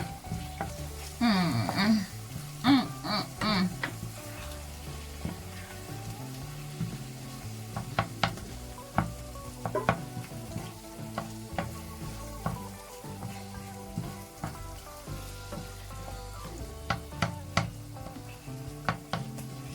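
A spoon stirs and scrapes eggplant and vegetables with curry powder in a sizzling pan, with irregular clanks and scraping strokes over steady frying.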